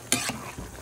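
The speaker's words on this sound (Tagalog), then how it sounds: "Ayan po guys, haluin po natin." A spoon stirs meat in a cooking pot, giving one brief scraping swirl with a soft sizzle underneath, close and fairly quiet.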